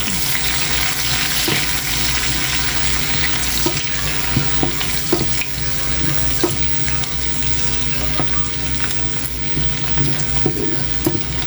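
Onions stir-frying in rendered pork lard give a steady, close sizzle with scattered scraping and clinking from the stirring, lasting the whole stretch with no talking.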